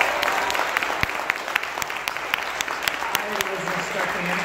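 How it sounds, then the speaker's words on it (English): An audience at an awards ceremony at a film festival breaks into steady clapping, a dense patter of many hands heard from within the room, with a voice briefly audible beneath it. "So I would just like to start another round of applause for this man right here."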